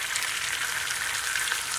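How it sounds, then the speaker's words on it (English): A cracked egg frying in a pan gives a close, continuous crackling sizzle that holds steady throughout, with no voices. "Let that fry for about 2 minutes or so."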